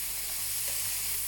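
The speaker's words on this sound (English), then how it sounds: "So, I'm just going to just make sure that I cook the oyster well." Oysters fry in an oiled pan for an oyster omelette, giving a continuous, fairly loud sizzle and hiss that stays even and close throughout, with no speech.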